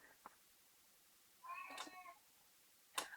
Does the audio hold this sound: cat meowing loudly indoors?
yes